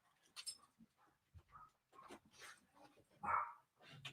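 A dog makes a few faint, scattered barks and whimpering yips, with one slightly louder bark near the end, distant and quiet in a room.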